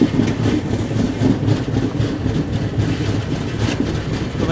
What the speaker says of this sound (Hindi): गाड़ी बस पहुँच ही रही है बागपाड़ा रेलवे स्टेशन